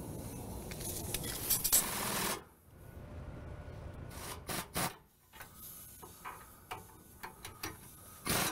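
Wrenching on the two nuts of a threaded tie rod sleeve during a heavy duty truck wheel alignment gives scraping, rubbing metal-on-metal turns with a few sharp clicks, close and fairly loud, then pauses with scattered clanks.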